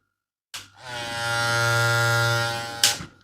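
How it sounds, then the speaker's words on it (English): An electric hair trimmer rated at 7,200 RPM switches on with a click, hums in a steady high buzz for over two seconds, then clicks off, recorded close in a quiet room. "Okay, let's talk about the trimmer."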